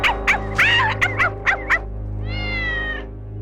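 A cartoon cat lets out a rapid string of short, loud meows followed by one longer drawn-out yowl, heard close and alone.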